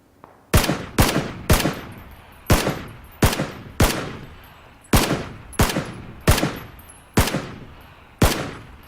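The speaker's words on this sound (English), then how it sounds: "he just wasn't sure where the shots were coming from" A run of about fourteen gunshots in the battle royale game PUBG, heard as loud, close, sharp reports with short decaying tails. They come singly and in quick pairs at an uneven pace, with no talk.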